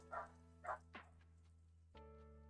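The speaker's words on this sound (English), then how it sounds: "Can you hear the dog?" A dog outside barks a few times, faint and distant, two short yaps and a whining note over a steady electrical hum in a quiet room.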